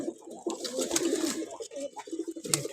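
A Sundori pigeon coos close by in soft, repeated low calls lasting a few seconds, over faint background noise.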